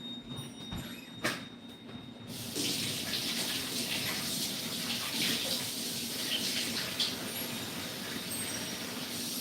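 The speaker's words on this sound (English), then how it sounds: "I'm gonna go wash my hands real quick." A kitchen tap turns on and runs steadily while hands are washed, a close, full rush of water that continues to the end after a few soft knocks at the start.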